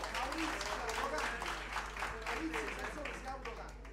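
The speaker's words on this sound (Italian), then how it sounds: "un applauso per Ivano Scano che veramente se lo merita" Applause at an assembly on the Statute for implementing the Constitution in Naples, a steady rain of clapping from a hall audience lasting throughout, with a voice faintly audible beneath.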